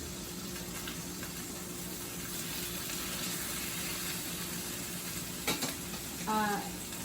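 Salmon frying in a pan on high heat for a crispy finish, a steady quiet sizzle with a few small clinks and scraping stirs toward the end.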